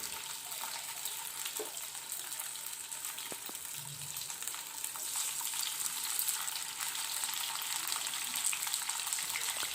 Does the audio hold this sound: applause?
no